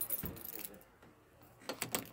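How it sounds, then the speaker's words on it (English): Keys jangle in short bursts, a rattle near the start and a clearer jingle toward the end, close and fairly loud, with quiet handling noise between. "You want the keys?"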